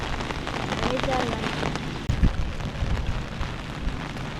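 Heavy rain pours onto flooded rice paddy fields during transplanting in rural Konkan, a dense, steady roaring hiss with a brief thump midway, and people talking over it.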